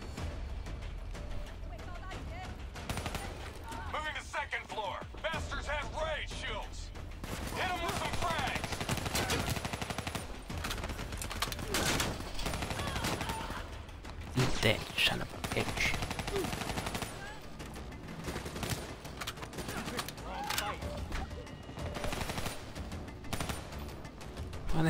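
Gunfire in the video game Call of Duty Black Ops III, with repeated bursts and single shots scattered through a noisy battle scene while voices talk over it.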